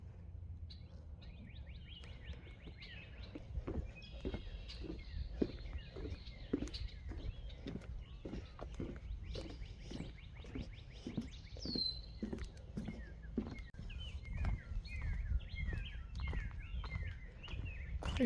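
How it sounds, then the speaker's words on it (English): Birds chirp and call in a park with ponds on a walking trail, short tweets scattered across the scene at moderate distance, with soft footsteps and outdoor ambience underneath. "There's just so many birds in this park."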